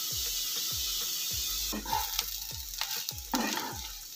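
Potato and pointed gourd fry in a pan with a steady crackling sizzle, while a spatula stirs and scrapes through them in repeated rhythmic strokes, close and fairly loud.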